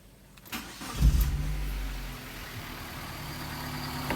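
A Suzuki APV car engine cranks and catches after a brief click, then settles into a steady idle with a low, rumbling hum, close and moderately loud.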